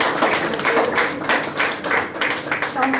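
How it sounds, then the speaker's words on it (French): An audience claps in rapid, uneven bursts of applause at an event in Belgium, moderately loud and sustained throughout. "applaudissez-le"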